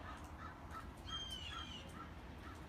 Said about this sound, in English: A couple of crows flying by.